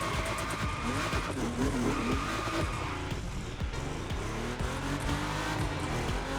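A car in the racing game The Crew Motorfest drifts with a revving engine and sustained tire squeal, loud and continuous, the engine pitch rising and falling through the slide.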